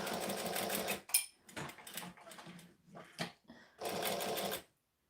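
A sewing machine top stitches around folded fabric for a Mini Denver bag, running in short bursts of close whirring separated by brief stops, then a final longer run before silence.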